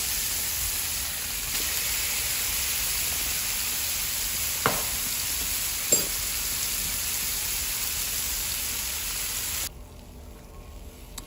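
Salmon fillets sizzle steadily in a frying pan, a constant broad crackle with two brief sharper clicks partway through, the sizzle dropping away abruptly near the end.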